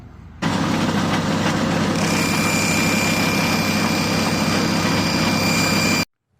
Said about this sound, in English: I'm going to run a 400 grit belt and run my scratches the other way